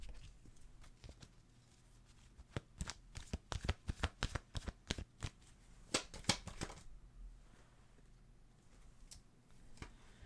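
Tarot cards are shuffled close up in quick rapid bursts of papery riffling and flicking clatter, fairly quiet, with a short pause and a few final taps.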